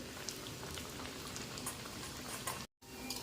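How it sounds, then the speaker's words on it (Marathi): Sabudana vadas deep-fry in hot oil over medium gas until crisp and golden, giving a soft, steady bubbling crackle that drops out briefly near the end. "आपल्याला सोनेरी रंग येऊपर्यंत आपल्याला हे चांगले क्रिस्पी तळून घ्यायचे आहे"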